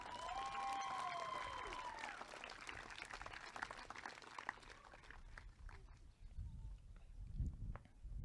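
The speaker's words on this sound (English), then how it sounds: "Another round of applause for Delaney Murphy." Applause at a high school graduation ceremony, held outdoors, opens at a strong level and then thins into scattered claps, with a faint whistle early on and crowd noise and shuffling around it.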